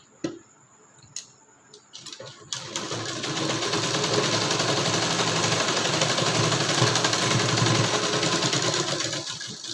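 A sewing machine stitching a katori blouse, starting after a few faint taps and then running as a loud, continuous, fast ticking whir for several seconds.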